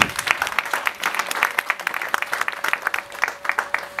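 An audience at a francophone youth gathering claps in applause, a quick irregular patter of many hands, moderately near and sustained across the moment.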